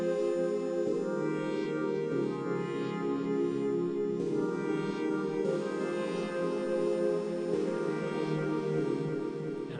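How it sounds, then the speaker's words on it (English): A sustained synth pad from a glo beat plays alone, holding warm layered chords that shift a few times across the stretch. "and then there's this pad here."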